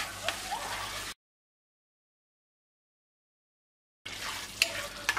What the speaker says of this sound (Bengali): এখন আমি ঢাকনাটা মেলে একটু নেড়ে দিচ্ছি